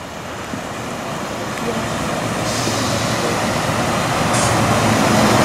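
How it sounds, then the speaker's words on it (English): A three-car Class 144 coupled to a Class 142 diesel passenger train pulls into a small West Yorkshire station, its steady rumble slowly building in loudness as it comes closer. "Right, our train is approaching."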